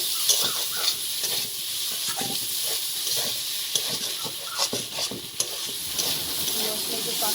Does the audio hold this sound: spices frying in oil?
yes